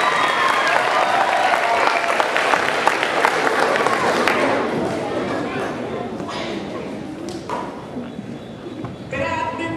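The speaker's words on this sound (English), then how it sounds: "Let's give them a big round of applause." Dense, loud applause from an audience at an elementary school talent show, a continuous wash of clapping with crowd noise and voices under it that gradually eases toward the end.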